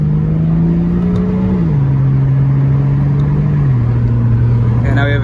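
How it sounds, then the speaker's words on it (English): BMW 335i with newly fitted turbos accelerating in sport mode: a steady engine drone rises in pitch, drops as gears shift twice, and climbs again, with talk over it. "We just gotta make sure the turbos are spooling good, and that's all we care about."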